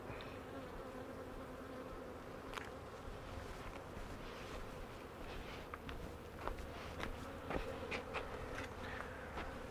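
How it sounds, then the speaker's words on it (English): Honey bees swarm and buzz around an open hive box with a crowded top, a steady close drone with occasional louder passes near the ear, no voices. "A lot of bees in the top."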